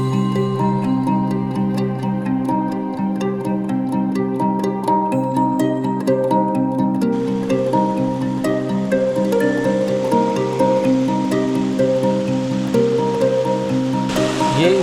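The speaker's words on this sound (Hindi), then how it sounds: "ओके, तो इस पानी की आवाज़ आ रही थी हमें।" Water flows steadily near a pond and waterfall on Jeju Island, a continuous rushing wash with faint bird-like tones and light rustling on top, no talking.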